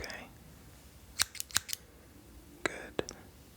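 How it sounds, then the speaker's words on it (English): Scissors snip sharply in a quiet ASMR session, two crisp clips close together followed by another pair a little later, each one brief and near, with soft background hiss between the cuts. "blink only when you hear the scissors clip"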